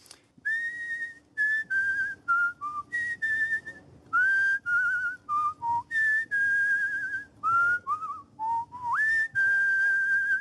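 A person whistles a melodic tune in clear sustained phrases broken by short breaths, close and fairly quiet with no speech over it.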